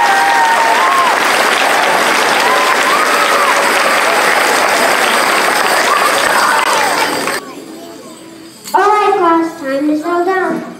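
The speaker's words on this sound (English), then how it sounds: "But I want to give a big round of applause to Mrs." Audience at an elementary school Christmas concert for second and third graders claps loudly and steadily for several seconds, then the applause stops abruptly and an adult speaks into a microphone.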